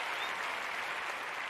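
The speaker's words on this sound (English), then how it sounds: "I wish I had a bigger applause for you" Steady applause from a studio audience on a talk show, a dense, even wash of clapping at moderate loudness that runs unbroken without any voice over it.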